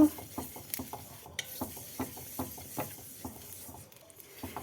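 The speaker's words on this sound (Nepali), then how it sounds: "अब चाहिँ तिल भुट्दैछु।" Sesame seeds dry-roasting in a pan for achar, stirred in regular quick scraping strokes with faint crackle and rustle, close and fairly quiet, with no talking.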